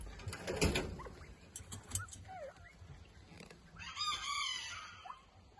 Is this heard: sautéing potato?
no